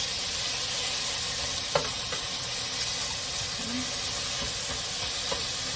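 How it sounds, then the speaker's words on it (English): Cabbage searing in a hot pan, with a steady loud sizzle and hiss throughout and a few faint stirring scrapes and clicks, no talk. "you just want to give it a good sear, let it create the flavor"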